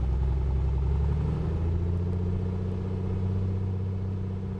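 A Piper Comanche piston engine in the MSFS 2024 flight simulator is throttled to 2000 rpm: a steady, loud droning rumble whose pitch settles after a slight shift early on and then holds evenly.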